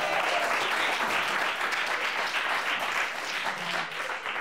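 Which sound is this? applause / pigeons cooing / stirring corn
applause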